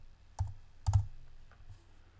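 A few keystrokes on a computer keyboard, two sharp clusters of clicks followed by a softer tap, close and quiet in a still room.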